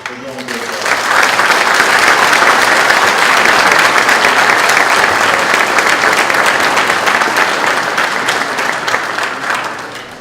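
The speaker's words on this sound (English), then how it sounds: "So for all those who have been promoted, applaud your family for doing this work." A large audience at a fire department pinning ceremony applauds for the families of newly promoted firefighters. The loud, dense clapping swells, holds for most of ten seconds, then tapers off.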